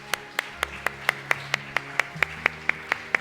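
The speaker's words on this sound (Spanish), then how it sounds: "démosle un fuerte aplauso al Señor" A church congregation claps in a steady, even rhythm, sharp beats landing roughly four times a second over sustained low musical tones, with no talking.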